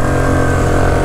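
Steady, loud engine drone from a Trapper 550 ATV running throughout, a continuous mid-pitched hum with no talk over it.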